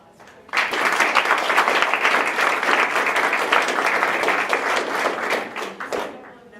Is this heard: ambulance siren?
no